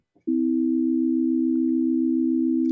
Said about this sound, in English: this major third played in the equal temperament